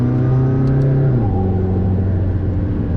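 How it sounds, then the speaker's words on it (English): McLaren 675LT engine heard through its roof scoop during track driving at the Nürburgring, a loud continuous droning growl that drops in pitch midway as revs fall, with no talk. "Yeah, the roof scoop sounds cool"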